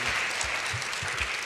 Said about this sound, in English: Okay, a big applause to Ben.